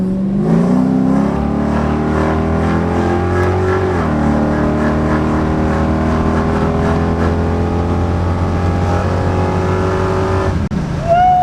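A Camaro with an LS3 V8 pulls hard under full throttle, its loud engine note climbing steadily in pitch through the gears, close and continuous, easing off near the end.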